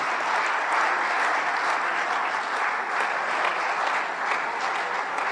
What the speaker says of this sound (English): Please, another round of applause to the Dean of the Diplomatic Corps.